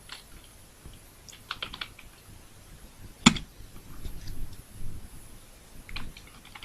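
Computer keyboard typing while writing C code, light scattered keystrokes in short irregular runs with one sharp louder key hit in the middle, quiet and close with no voice.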